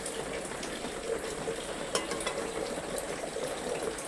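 A Bengali bhola fish curry with potatoes bubbling in a pan as the fish pieces are turned: a steady, close simmering hiss with faint soft scrapes and small clinks, and no talking.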